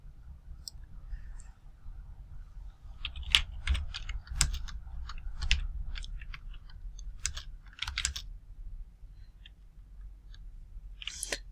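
Computer keyboard typing at a desk, irregular bursts of close, crisp key clicks with short pauses between clusters, over a low steady room hum and no talking.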